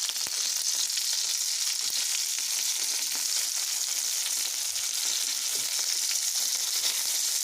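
Steady, dense sizzling of saffron milk cap mushrooms frying in a hot pan, continuous and close with faint crackles throughout, no voices.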